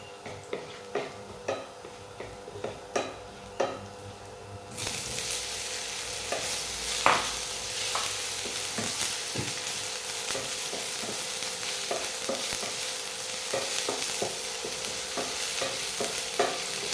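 Tofu frying in a home kitchen pan: a few sharp utensil taps at first, then a steady soft sizzle begins, punctuated by irregular stirring clicks and scrapes.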